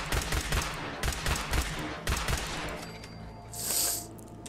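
Rapid gunfire from an upgraded long-barrel Institute pistol in Fallout 4, a quick string of sharp, loud shots in several clustered bursts, followed by a bright hissing energy burst.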